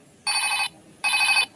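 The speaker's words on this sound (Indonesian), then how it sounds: "kita menemukan ada telepon Hello Kitty" A Hello Kitty toy telephone rings with two bright electronic trill bursts, each about half a second, separated by a short pause, clear and close against quiet background.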